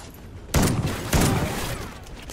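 Two heavy pump-action shotgun blasts in the Call of Duty: Ghosts Extinction video game on Xbox 360, spaced about half a second apart, each booming loudly and then trailing off into rumbling noise.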